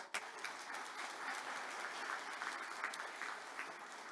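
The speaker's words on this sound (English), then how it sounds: "To our current town council members, give them a round of applause." An audience at a resort opening ceremony claps for town council members, a sustained, fairly distant round of applause with scattered sharper claps, no voices over it.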